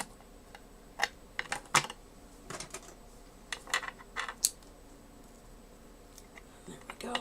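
Scissors cut paper for a handmade junk journal, making a scattered run of sharp, close snips and clicks with quiet pauses between them.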